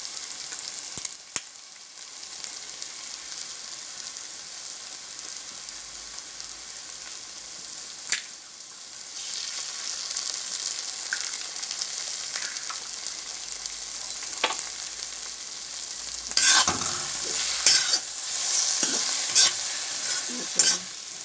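Egg and okra stir-fry being stirred in a pan for vendakkai poriyal, a steady sizzle with repeated scraping and spatula clinks, louder stirring bursts toward the end, no talk.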